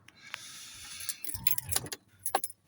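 A Jaguar XK8's keys jangle and click as the ignition is turned on, with metallic rattles and a few sharp taps close by in a quiet car interior.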